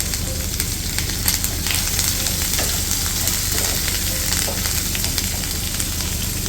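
Swordfish pieces frying in hot oil in a pan: a dense, loud, unbroken sizzle with fine crackles and spits throughout, close up and without speech.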